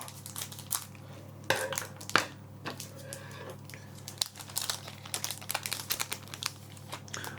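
Crinkling and rustling of a One Piece trading card booster pack's foil wrapper being handled and torn open, with irregular crisp crackles and a few sharper rips, close up, no talking.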